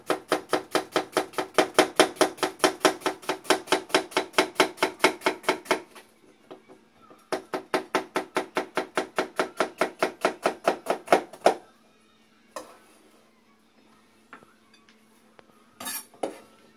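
An onion is sliced with a knife on a board in two fast, regular runs of crisp chopping knocks, each about five seconds long, with a short pause between and a few scattered knocks afterward.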